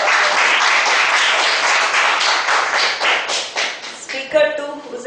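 Applause for a speaker at a Toastmasters-style speakers forum meeting, a dense run of clapping from a small group in a room that breaks off near the end as a voice starts talking.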